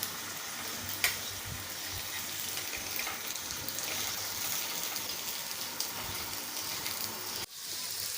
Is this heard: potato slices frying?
yes